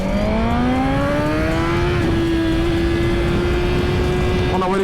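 Suzuki GSX-R 1000 motorcycles rolling along on a group ride: a loud close engine drone with a steadily rising pitch, wind rush throughout and a brief rev change at the end.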